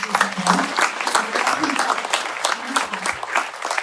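Audience applause at a launch night event for an older-adult care program, steady clapping from a seated crowd lasting several seconds, with a voice faintly audible over the clapping.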